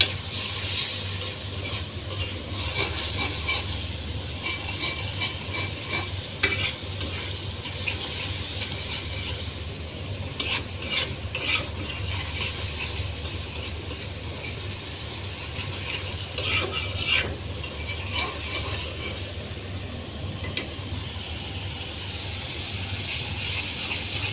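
Papaya and prawns being stir-fried in a pan, a steady close sizzle with scraping and clinking of a spatula against the metal, continuous for a long stretch with no talking.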